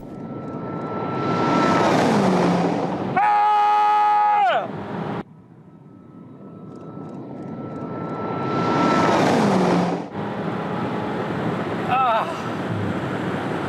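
The V8 biturbo engine of a Manhart M3, taken from a BMW X6M, roars past loudly twice, rising and falling, with a sharp revving burst between passes and a deep rumble after.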